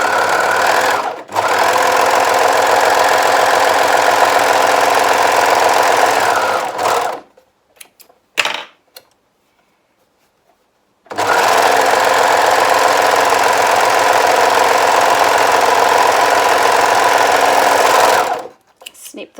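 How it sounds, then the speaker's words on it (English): Overlocker serging both side edges of a fabric centre front dress piece, a loud, steady mechanical whir in two long bursts separated by a brief pause with small clicks of handling. "I'm just going to overlock on both sides"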